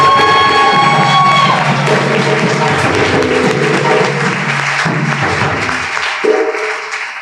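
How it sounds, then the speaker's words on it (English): An audience applauds graduates at the close of a Kente cloth ceremony, loud sustained clapping and crowd noise filling the room, tapering slightly toward the end with a few thuds. "Let's give all of our graduates another round of applause."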